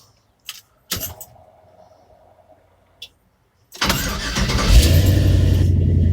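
A few clicks and clunks precede a 1958 Chevy 3100 pickup truck engine cranking and catching, then rumbling loudly at idle and revving up.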